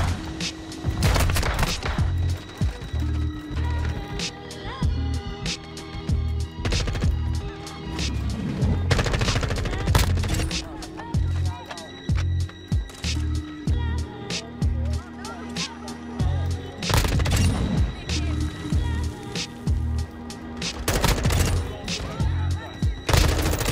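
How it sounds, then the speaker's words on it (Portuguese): Rapid bursts of video game gunfire crackle and boom repeatedly over a driving rhythmic backdrop, loud and dense throughout, with sharp louder shots scattered across. "Nossa, que tiro!"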